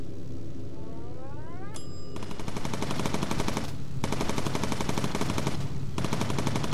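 Rapid automatic machine-gun fire from the aircraft gunner in the video game Bomber Crew, loud continuous bursts with brief pauses, preceded by a rising electronic whine and a bright ding.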